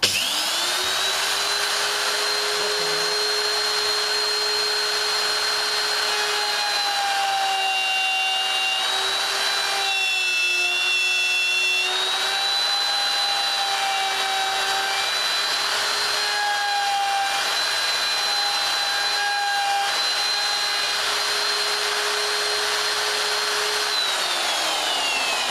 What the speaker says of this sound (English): The router will automatically cut up this side line, giving me the width of the hinge